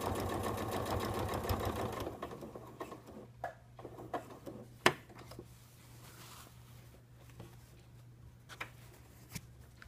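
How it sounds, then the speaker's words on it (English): A sewing machine runs for about two seconds while stitching a side zipper, a fast rattling whir. Then it stops and leaves quiet handling clicks and a low steady hum. "my machine doesn't like sewing over"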